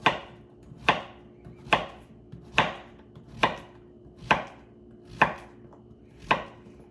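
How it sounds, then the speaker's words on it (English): Knife cutting zucchini into cubes on a board, eight crisp evenly spaced chops at a steady unhurried pace, close and distinct, with quiet pauses between strokes and no speech. "When it gets a lot of seeds, I sometimes will like cut it into cubes."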